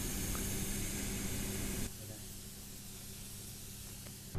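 A steam cleaning machine blasts 100 °C steam onto a bed, a loud continuous hiss that drops to a softer steady spray partway through.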